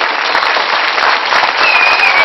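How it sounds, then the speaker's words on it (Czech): An audience at a Slovak folk ensemble wedding performance applauds: loud, dense clapping from a crowd, steady throughout, with no voices. "A potlesk"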